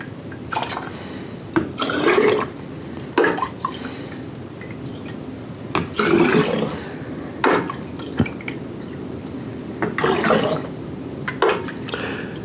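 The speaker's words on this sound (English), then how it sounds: "let's put it in a bottle and then we get ready to taste it. I'll just use a ladle to start." Blackberry lemonade moonshine is ladled into a glass jar, giving repeated splashing pours and drips in irregular bursts, close and moderately loud, with no talking.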